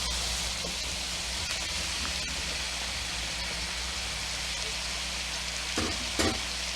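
Raw shrimp hit a hot pan of garlic for a honey-garlic stir fry with sugar snap peas, giving a steady, close, even sizzle that holds for several seconds, with a few faint stirring clicks near the end and no talking.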